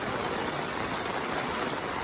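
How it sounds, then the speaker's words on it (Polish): A small shower-like waterfall near a village hall in Cambodia pours steadily in a continuous, even hiss of falling water, fairly faint and without any voices. "taki prysznic wodospad"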